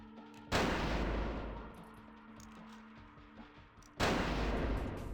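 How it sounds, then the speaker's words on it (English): Enemy gunfire in the game Vampire: The Masquerade – Bloodlines: two loud, close bursts of shots, the first running for several seconds and the second starting sharply later, over a low steady hum. "he sure is still just shooting the floor"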